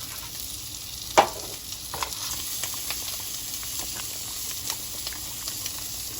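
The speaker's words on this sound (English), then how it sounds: "I want to stir it constantly for at least 2 minutes." Spoon stirring grits in a hot pan, with soft continuous scraping and a low sizzle, one sharp knock near the start, and no talk.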